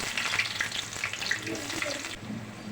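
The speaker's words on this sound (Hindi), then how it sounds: "देखिए प्याज हमारी ब्राउन हो गई है।" Onions frying for beef nihari give a brief, steady sizzling hiss with light crackles and a few soft stirring knocks, fairly quiet.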